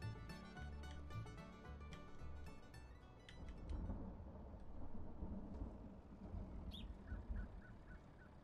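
A deep, rolling rumble of Farming Simulator video game thunder swells and lingers over a dense background, with a few sharp crackles early on and faint chirps near the end.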